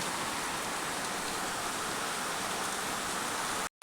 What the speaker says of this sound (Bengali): কি প্রচণ্ড বৃষ্টি পড়ছে